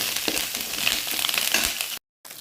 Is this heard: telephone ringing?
no